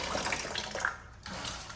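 Water runs from a faucet in a solid, steady flow after air is cleared from a post filter, a close, broadband rush that dips briefly midway before resuming.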